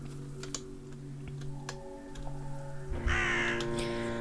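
Crow caws from the video game Drake Hollow ring out over steady game ambience, with a rough cawing burst near the end and scattered keyboard typing clicks throughout.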